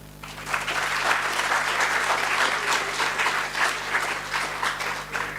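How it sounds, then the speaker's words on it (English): Enthusiastic audience at an HR conclave at the Army Institute of Management & Technology breaks into loud, dense applause that starts abruptly and carries on steadily without talk. "maybe you want to give yourself a round of applause"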